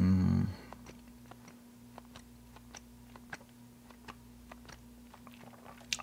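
Chewing gum worked steadily in the mouth, with soft, irregular clicks and moist mouth noises close up and fairly faint over a constant low hum, after a brief louder burst at the start.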